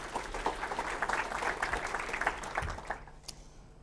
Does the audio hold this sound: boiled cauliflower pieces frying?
no